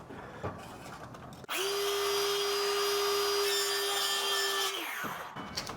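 A power saw spins up and cuts steadily through a weatherproof faux wood slat clamped at a table edge, a loud sustained whine lasting about three seconds before winding down, with faint handling noises before and after.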